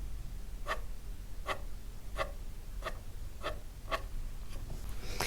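A pencil sketches hair strands on paper in quick upward strokes, giving seven or eight short, evenly spaced scratchy swishes, close and fairly faint over a soft background hiss with no talking.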